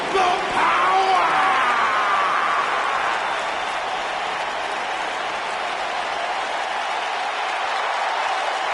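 A large arena crowd in a WWE wrestling video game claps and roars in a steady, dense wash that starts loud and slowly eases, with no clear voices standing out.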